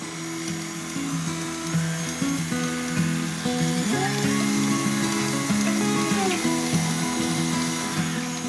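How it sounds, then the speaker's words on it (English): A stand mixer with its paddle attachment on low speed blends sweetener and vanilla extract for keto sugar cookies, giving a steady droning motor whine that shifts pitch slightly partway through and runs on its own. "we're just going to blend that up with the paddle attachment"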